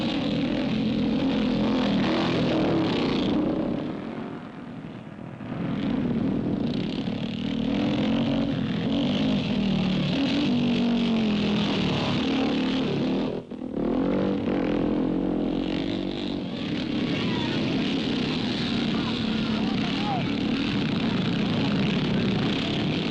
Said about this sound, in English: when you've learnt to control a motorcycle over this sort of ground and at this sort of speed